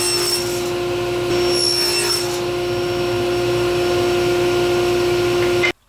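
A power saw, likely a table saw, runs continuously with a steady high whine and rough cutting noise as it cuts wood pieces for a box, stopping abruptly at the end.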